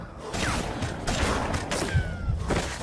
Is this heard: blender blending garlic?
no